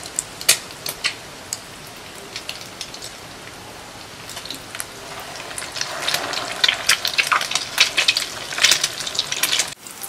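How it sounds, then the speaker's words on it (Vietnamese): Bread rolls filled with cheese and sausage, coated in egg and milk, fry in a full pan, giving a steady crackling sizzle with sharp pops that grows busier and louder. "Giờ thì mình sẽ chiên đầy chảo luôn nha."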